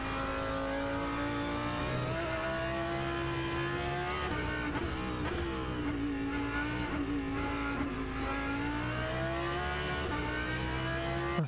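Race cars at the Nordschleife endurance race, engines droning and revving at high pitch with shifting tones as several cars pass, continuous and fairly loud, no talking.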